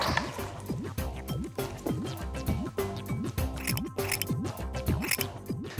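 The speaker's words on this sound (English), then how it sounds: "we need to cut small pieces of wool like this" Scissors snipping small pieces of wool for a craft, a quick series of crisp metallic cuts repeating in an uneven rhythm, close and clear with no talking.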